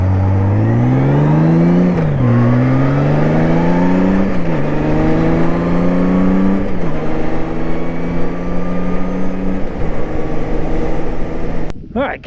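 A 2016 Honda motorcycle cruising on the Blue Ridge Parkway, its engine loud and close, rising in pitch through several gear shifts with steady wind rush throughout.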